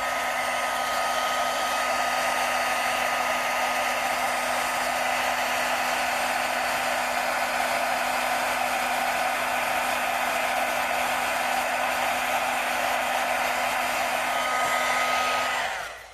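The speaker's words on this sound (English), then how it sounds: "Now I'm going to make a little bit more noise as I bring in my heat tool." A handheld heat tool blows steadily on ink, a loud continuous airy whoosh with a faint tonal whine that runs for about fifteen seconds before cutting off abruptly.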